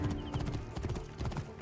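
Rhythmic horse hooves clip-clop steadily at a trotting pace in the video game Assassin's Creed Origins, fairly close, with no talking over them.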